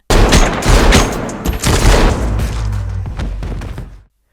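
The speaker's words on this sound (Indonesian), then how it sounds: "Ketika Haris melihat Brain, ia pun langsung memberondong Brain." Automatic gunfire in a scene from the action film Silent Night roars as one loud, dense, continuous burst of rapid shots lasting about four seconds before cutting off.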